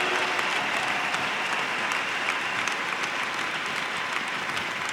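A church congregation applauding for Jesus during a French-language sermon: dense, steady clapping from many hands, sustained and fairly close for the whole stretch with no pauses.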